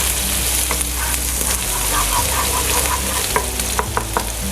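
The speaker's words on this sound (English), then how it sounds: "I'll first add the chopped onions into the oil. I'll saute it well." Chopped onions sautéing in hot oil, a loud continuous sizzle with rhythmic stirring scrapes and clicks of a utensil against the pan.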